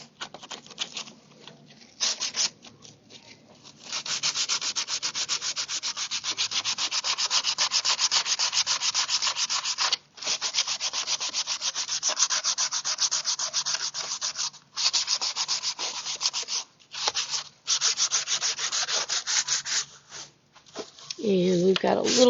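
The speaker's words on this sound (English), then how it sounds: "just roll your sandpaper where you can manage it" Rolled sandpaper rubbing steadily over a surface in a craft studio, heard as long, close, rasping strokes with brief pauses, while a person talks throughout.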